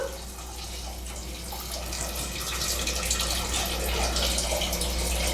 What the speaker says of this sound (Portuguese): Vamos cobrir a lentilha com água.